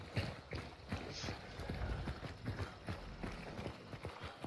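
Rapid clip-clopping hooves from a horse in the game Hunt, steady and fairly close, with busy background noise and occasional thumps mixed in.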